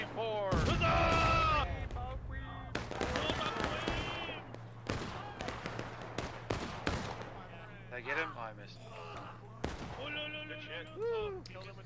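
Musket volleys and artillery booms crack and rumble across a Civil War battlefield in Ghosts of Antietam, irregular sharp reports scattered through the scene with some fire sounding distant, mixed with shouting voices and a steady low hum.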